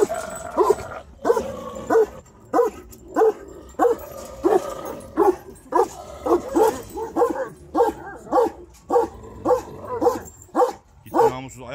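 A dog barks repeatedly in a steady series of sharp yaps, fairly close, with a whiny edge to some barks.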